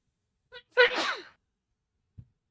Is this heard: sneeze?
yes